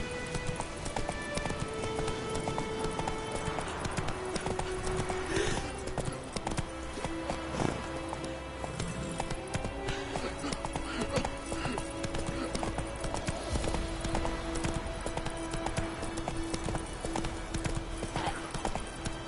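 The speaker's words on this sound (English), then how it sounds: "Whoa there, Roach" A horse's hooves clip-clop steadily in The Witcher 3, a continuous rhythmic gait over faint background ambience.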